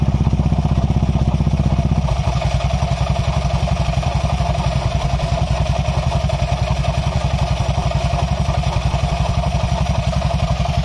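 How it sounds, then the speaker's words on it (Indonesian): Honda Vario 150 scooter engine idling with noisy, rough bearings and a drum-style exhaust: a loud, steady mechanical clatter with a fast regular pulse, constant throughout and close up, no talking. "langsung saja nih kita nyalakan motornya supaya teman-teman tahu nih suaranya"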